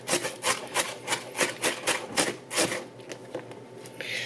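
Knife chopping onions on a cutting board, a steady run of about a dozen firm, evenly spaced chops, close and fairly loud.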